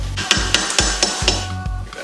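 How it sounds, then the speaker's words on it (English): Rice and peas being stirred in a cooking pot, a spoon knocking against the pot in a steady series of short, moderately loud clunks and scrapes, about one every quarter second, with no talking. "Give that a quick stir."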